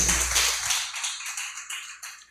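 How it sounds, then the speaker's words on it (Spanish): Congregation at an evangelical church service applauding, a brisk burst of many hands clapping that fades out over a couple of seconds, with a few isolated claps near the end and a faint steady hum underneath. "Dele un aplauso a Jesús"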